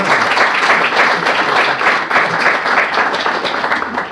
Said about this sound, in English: a round of applause for Chris and our panelists